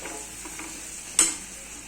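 Quiet, steady sizzle of masala frying in a pan as potatoes go in, with soft stirring scrapes and a short sharp clink of the spoon near the end.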